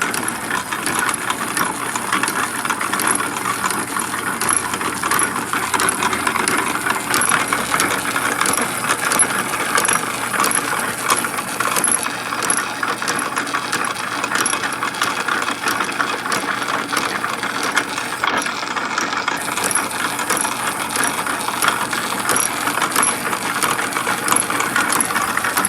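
An old post drill running steadily and noisily for a long stretch, with continuous mechanical clatter, rattling gears and a ratcheting whir, fairly loud and up close, with no talking.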